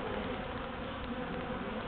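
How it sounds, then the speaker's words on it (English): Bees gather around a homemade swarm trap near a kitchen door, giving a steady, dense buzzing drone that holds evenly throughout, fairly close and without speech. "we got all these bees."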